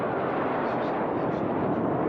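A Fouga jet roars past at an air race, a steady, loud, broadband whoosh with no clear rise or fade across the span, under commentary.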